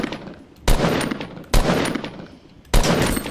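Three loud bursts of automatic gunfire from the video game Fortnite, each a sharp onset followed by about a second of rattling fire, spaced roughly a second apart with no talking.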